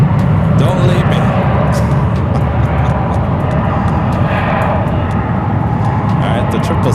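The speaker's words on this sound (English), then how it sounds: "All right, the 777 heading out to the 28s." Boeing 777 jet taxiing out for departure at San Francisco airport, a loud, steady engine roar with a broad rumble that holds throughout, with talk over it.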